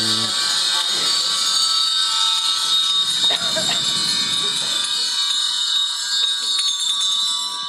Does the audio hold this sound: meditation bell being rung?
yes